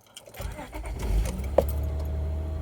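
A Cadillac car engine starts up after a jingle of keys, the low rumble swelling and then settling into a steady close idle, with faint talking early on.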